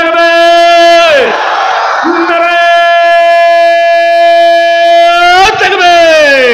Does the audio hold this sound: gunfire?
no